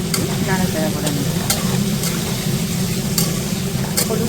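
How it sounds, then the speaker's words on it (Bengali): Vegetables frying in a pan with a little turmeric added, a steady loud sizzle with periodic scrapes and taps of a spatula stirring them, close up and without talk. "একটুখানি দিয়ে দিলাম হলুদ, এটাকে একটু নাড়াচাড়া করে নিই।"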